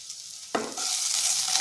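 Food hits a hot pan with a sudden sizzle, followed by a spoon stirring through a kadhi mixture with curry leaves as the frying continues.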